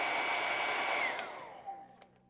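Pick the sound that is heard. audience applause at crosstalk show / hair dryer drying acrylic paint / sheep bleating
hair dryer drying acrylic paint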